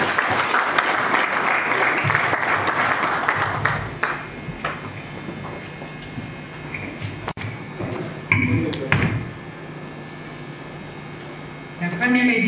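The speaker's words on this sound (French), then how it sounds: "Et je vous prie d'applaudir très fort pour elle." Audience clapping for Madame Louise at an awards ceremony, a fairly strong burst of applause at first that thins to scattered claps, with a voice speaking over it later.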